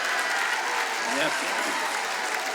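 Audience applause during a Juste pour rire comedy sketch, a dense wash of clapping throughout the short stretch, with a voice briefly heard over it.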